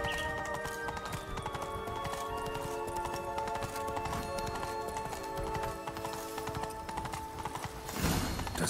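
Roach, a horse in The Witcher 3 Blood and Wine, trotting along with steady rhythmic hoof clip-clops under a soft musical backdrop, close and moderately quiet throughout.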